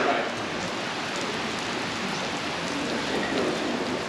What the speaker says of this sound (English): It's raining pretty good now.